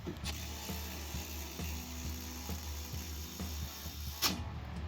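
A ratchet wrench turns with a quiet, quick run of clicking pawl ticks under low room hum, ending in a brief sharper clack.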